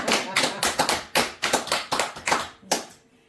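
A Buddhist temple congregation claps hands together in a string of roughly a dozen sharp, close claps in an uneven rhythm, ending with a lone clap before quiet.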